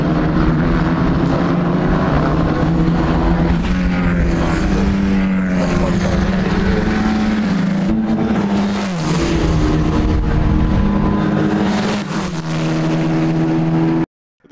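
GB4 Championship race cars at Snetterton finish their race and head back toward the pit lane, a loud, continuous engine drone with shifting pitches as several cars pass close by, no voices over it.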